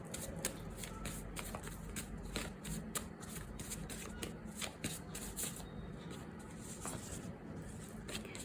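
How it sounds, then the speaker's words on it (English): Tarot cards are shuffled close up in a continuous quiet stream of rapid riffling and flicking, with soft rhythmic card slaps throughout and no talking. "let's just pull out 4 more cards before we get into the reading"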